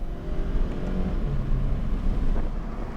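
An automatic Subaru BRZ accelerates on a track as its paddle shifters are worked, the engine droning loud and close with rising and shifting tones over a steady rumble, and no voices.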